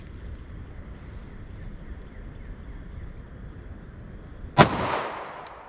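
A single sharp 9mm pistol shot cracks from a Sig Sauer Elite with a 3.2-inch barrel, loud and close, with a rolling echo tail after several seconds of wind and quiet outdoor background.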